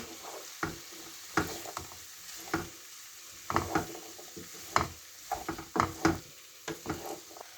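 Eggs, onions and potatoes frying in a pan for an Afghani breakfast, with intermittent bursts of stirring and scraping over a faint, steady sizzle, fairly close and with no talking.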